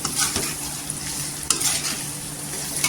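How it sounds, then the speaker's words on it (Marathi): Brinjals (eggplant) sautéing in hot oil in a pan for a village-style stuffed brinjal dish, with a steady sizzle and occasional scrapes and clinks of a stirring spoon, close and continuous. "1-2 मिनटं तेलावर छान अशी परतून घ्यायची"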